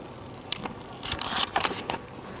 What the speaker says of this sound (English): If you hear the squeaking, it's my leather jacket.